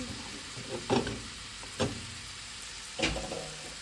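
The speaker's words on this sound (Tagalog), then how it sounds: "Upo, magigisa tayo ng upo." Bottle gourd (upo) cooks in a pan with a low, steady sizzle, broken by a few sharp clanks and scrapes of a spatula stirring it, close and fairly quiet.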